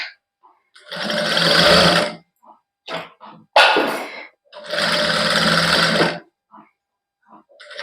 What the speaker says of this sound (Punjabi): ਬਸ ਇੱਕੋ ਜਿਹੀ ਗਲਾਈ ਨਾਲ ਆਪਾਂ ਸਲਾਈ ਲਾ ਲਾਂਗੇ